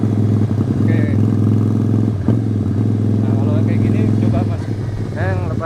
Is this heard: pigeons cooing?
no